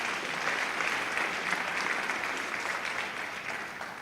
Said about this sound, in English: you should give yourself a round of applause for that to happen